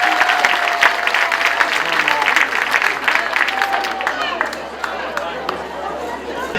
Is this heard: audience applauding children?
yes